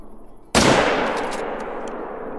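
A single loud rifle shot from a .300 Magnum firing soft points in the hunting game Call of the Wild, set in Africa, a sudden sharp crack followed by a long rolling echo that slowly fades.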